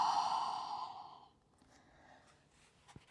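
A long, loud exhaled breath from a yoga practitioner during a power yoga flow, a broad airy rush fading out over about a second and a half, followed by quiet room tone and faint movement.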